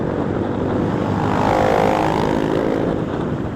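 A 2023 Yamaha Gear 125 scooter is being ridden, its engine giving a steady droning hum with rushing wind noise, loud and continuous, swelling slightly in the middle.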